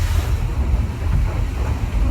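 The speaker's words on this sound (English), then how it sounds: "I've got the waves coming right against us" Waves break against a Kingfisher boat in a strong wind, a steady loud wash of water and rumbling wind noise on the microphone that carries through without a pause.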